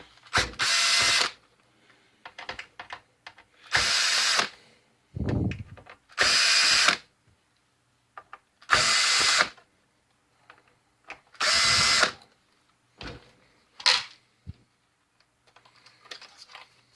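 A power screwdriver drives screws into a Polyvision PJ905 DLP projector under repair, fastening a ground wire. About seven loud, close whirring bursts of roughly a second each alternate with small clicks and handling noises.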